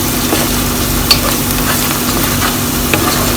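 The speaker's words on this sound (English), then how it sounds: "I put here some paprika, 7 spices, curry powder, black pepper, cumin, half teaspoons of everything. I will fry them all together." Paprika, seven spices, curry powder, black pepper and cumin fry together in oil, giving a constant loud sizzle with a faint low hum and an occasional small tick from stirring.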